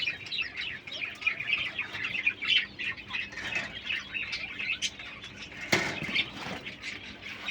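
A flock of king quail kept for sale chirps and squeaks in a dense, busy stream of bright calls throughout, with one sharper burst near the end.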